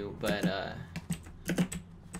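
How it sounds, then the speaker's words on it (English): Rapid clacking keystrokes from a loud mechanical keyboard, close and crisp, arriving in quick clusters while someone talks over them during a Minecraft TNT Run game. "sorry about the loud mechanical keyboard"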